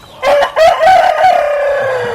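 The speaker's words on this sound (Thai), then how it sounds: "ไก่ที่บ้านร้องระงมมาก" A rooster crows loudly at a home in rural Thailand, a close, drawn-out cock-a-doodle-doo rising through sharp opening notes into a long sustained call, with faint clucking from other chickens beneath.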